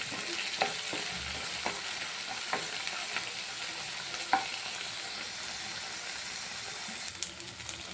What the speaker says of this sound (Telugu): బాగా మిక్స్ చేసుకొని కొంచెం పాలకూర మొత్తం పచ్చివాసన పోయే వరకు ఫ్రై చేసుకోవాలి.